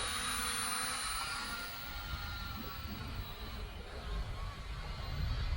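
A cheap Temu beginner drone hovers in flight on altitude hold, giving a continuous high-pitched whine and buzzing hum that stays steady throughout and grows slightly louder at the end.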